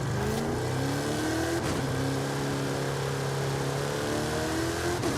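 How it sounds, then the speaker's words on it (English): A car accelerates at full throttle in Forza Horizon 5, its engine roaring loudly and continuously with rising revs and a brief break around a gear change, close and unbroken, with no speech. "I'll be able to just, you know, go full throttle and it'll pick up"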